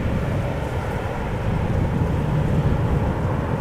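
A Norwegian Boeing 737 Max 8 departing Amsterdam Schiphol for Copenhagen, a loud, steady, broad jet roar with rumbling low end, heard up close and alone.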